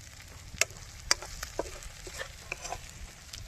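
Onions with ginger-garlic paste frying in oil for a pork curry, giving a faint, steady sizzle broken by sparse sharp pops and crackles, with no voices.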